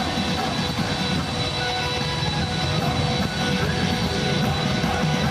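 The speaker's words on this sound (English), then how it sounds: "The sound of the engines hums deeply in the air" Aircraft jet engines hum in a deep, steady roar during a presidential plane's arrival in Malaysia, continuous and even, with no voices.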